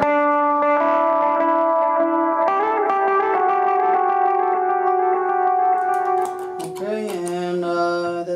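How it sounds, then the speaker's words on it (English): Electric guitar phrases played through a reverb effect on a true bypass looper with soft relay switching, notes ringing into a washy, lingering tail, with a brighter strummed burst near the end. No talking. "Reverb."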